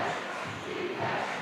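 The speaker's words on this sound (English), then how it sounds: "Now they are yelling defense for the Pride." Crowd at a varsity boys high school basketball game, Turlock at Pitman on senior night, yelling a sustained defense chant in a loud, dense wall of voices that fills the gym without a break.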